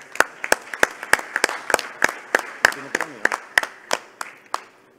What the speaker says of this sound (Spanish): Un aplauso para Luciano.